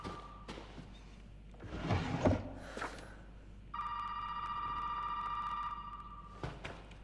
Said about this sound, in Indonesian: Mana telepon?